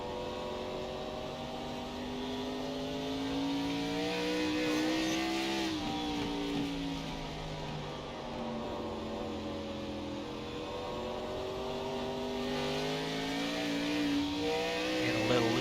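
Xfinity Series race car at North Wilkesboro during the All Star Race, engine note rising and falling steadily as the driver goes on and off the gas through a corner, loud and continuous with a second engine swelling toward the end.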